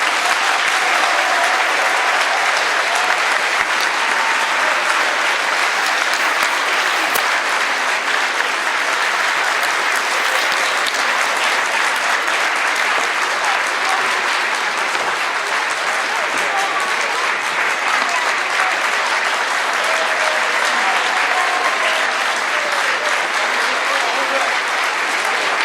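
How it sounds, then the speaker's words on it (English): Sustained audience applause for a high school performing arts group, a dense steady wash of many hands clapping throughout, with faint voices mixed in beneath. "let's give them another round of applause"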